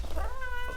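A house cat gives a single short meow indoors, clear and close, alone without talk.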